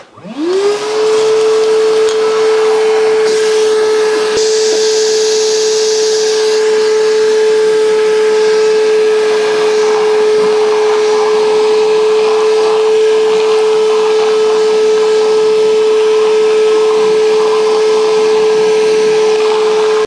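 An Evolution R11VAC-Li 18V cordless wet and dry vacuum motor whines steadily and loudly throughout, a constant high-pitched drone with a faint rattle of wood dust partway through.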